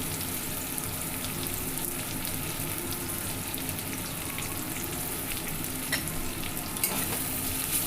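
Chopped onion frying in a pan over low gas, a steady close sizzle with stirring scrapes running throughout and a few sharper clicks near the end.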